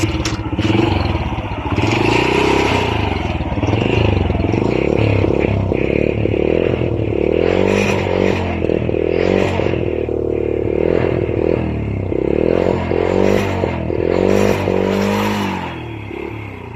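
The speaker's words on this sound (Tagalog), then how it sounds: "Pakinggan nyo ang tunog ng kanyang tambutso guys." A Honda Wave 100 motorcycle idles and is blipped nearby, its exhaust putting out an uneven, throbbing rumble with occasional clattering and revving; the bike struggles to pull when riding.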